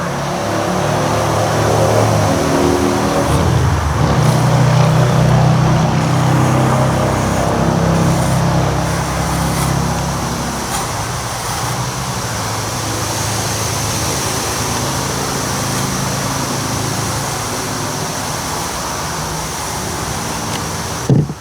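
A brand-new Stihl string trimmer engine idles and hums steadily for about twenty seconds with a loud, even drone and a slight swell early on, and no talk is heard.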